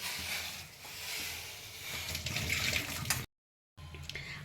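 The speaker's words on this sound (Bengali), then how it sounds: "এবারে আমি এটাকে জলটা ফেলে দিচ্ছি।" Water from lightly boiled broccoli is poured off in a steady, splashing rush that breaks into a brief silence, then resumes more faintly.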